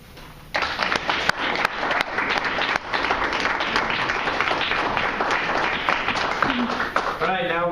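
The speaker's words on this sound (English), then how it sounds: "Let's give another round of applause" Audience applause at a live Mormon poetry slam breaks out loud and dense after a quiet start. It holds steady for several seconds, and a voice comes in near the end.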